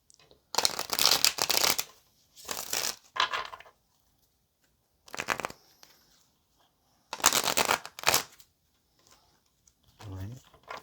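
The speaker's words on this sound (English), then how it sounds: "Let's get one more good shuffle" Several bursts of crisp tarot card shuffling, each a rapid riffling flutter lasting a second or two, separated by quiet pauses; a brief voice murmurs at the end.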